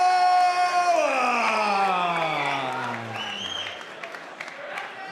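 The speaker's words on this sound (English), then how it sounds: "make some noise for Randall Rowan" An MMA event crowd cheers and applauds, loud at first, then fading, while a voice with a long drawn-out announcer's call introducing a fighter rings over the noise.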